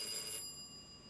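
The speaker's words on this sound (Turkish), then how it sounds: "Zil çalıyor Mecnun." A home doorbell rings in one brief, bright, metallic burst, then its tones fade quietly away. The sound is fairly faint, and no one speaks.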